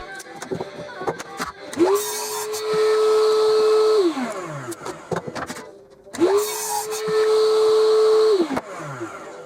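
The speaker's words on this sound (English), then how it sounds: "I chopped each end of the head on the miter saw" A miter saw cuts the ends of a wooden mallet head made from pallet wood, two separate cuts, each a motor whine that rises, holds steady while cutting, then winds down.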